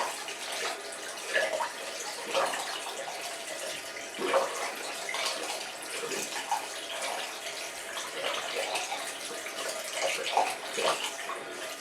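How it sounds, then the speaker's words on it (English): Hands rinsed under a running water tap, a steady, soft splashing and trickling stream with small shifting splashes as the hands move, close and quiet, without speech. "We're going to wash these hands off, rinsing them."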